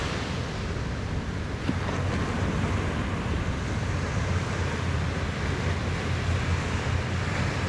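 Ocean surf at sunrise rolls in as a steady, full wash of waves with wind buffeting the microphone, continuous and unbroken with no voices.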